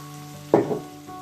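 Grilled meat in a pan for el kemia, with a tablespoon of olive oil just added, giving a brief close burst of sizzling that rises sharply and fades within half a second over a quiet background hum.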